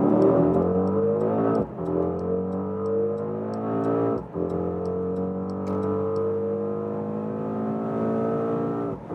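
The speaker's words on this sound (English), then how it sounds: "And we'll go to the race mode and start from 40 kilometers an hour to whatever" Mercedes GLE 63 S AMG Coupé with its 4-liter V8 biturbo pulling hard in race mode, a loud, close, rising engine roar with two brief dips at gear changes before climbing again.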